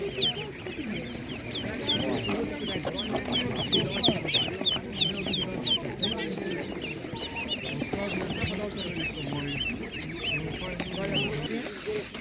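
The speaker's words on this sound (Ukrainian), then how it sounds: "Малесенькі такі каченятка." Dense, continuous high-pitched peeping from many ducklings close by at a market, with a low murmur of background voices underneath.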